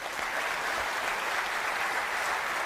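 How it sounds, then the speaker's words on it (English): Steady audience applause at a live television broadcast, a dense, even roar of many hands clapping together that holds at constant loudness without a break. "Give James a round of applause."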